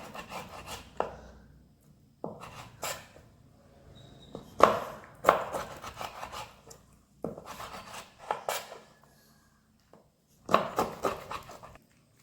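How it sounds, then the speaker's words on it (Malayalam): Knife cutting cleaned stingray fish into small pieces on a board, with several separate bursts of rubbing, rasping chops and scraping spread across the clip and quiet gaps between them. "ഇത്രയും ചെറിയ പീസായിട്ടാണ് ഞാൻ കട്ട് ചെയ്യുന്നത്"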